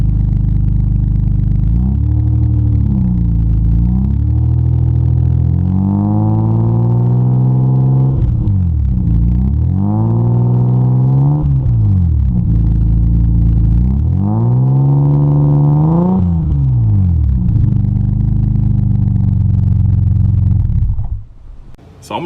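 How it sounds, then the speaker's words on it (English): Toyota Supra fitted with a new HKS exhaust, revved several times while parked: deep rumbling idle rising into a few strong throaty revs that fall back between pulls, with a sharp clatter at the very end. "So I gave you a quick couple revs right there."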